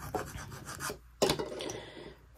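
A scraper rubbing gold vinyl transfer onto a teacup, a close dry rasping scrape in a few short strokes with a brief pause between, no voices.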